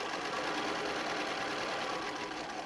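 A sewing machine stitches a name tag and cell phone bag in one steady, continuous run of rapid motor-driven clatter, close and moderately quiet, with no talking.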